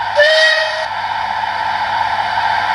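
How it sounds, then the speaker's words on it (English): A steam whistle sounds from a DCC sound-fitted OO gauge model of the Bulleid SR Leader locomotive, a short bright chime lasting under a second, followed by steady steam hiss and background noise. "And let's have the first whistle."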